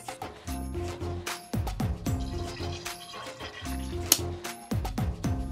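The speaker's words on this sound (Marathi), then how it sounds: "आता तवा गरम झालाय, आता तेल टाकून घेऊया." Oil sizzling steadily on a hot tawa as banana-leaf-wrapped pomfret is readied for frying, a close, continuous crackle with brief louder pops and no talking.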